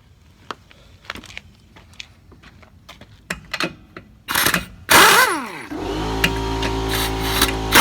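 A 2011 Toyota Highlander engine starts after a run of light clicks and taps, then settles into a steady, close idle hum while the SUV backs into a driveway.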